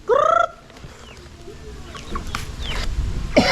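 A hen gives a loud clucking cackle at the start, then faint scattered clucks and scratching sounds follow in a quiet outdoor setting.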